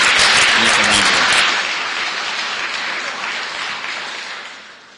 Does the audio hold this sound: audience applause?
yes